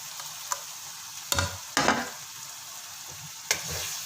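Okra hitting onion masala in a hot pan, a soft continuous fry broken by a few sharp sizzling bursts and stirring scrapes, fairly quiet with no voices.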